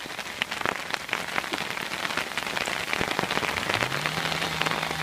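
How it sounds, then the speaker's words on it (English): Hail pattering densely on a forest camp, a steady crackling hiss of many small impacts throughout, with a low droning tone rising near the end as trees are cut nearby. "Hope you enjoy the hail."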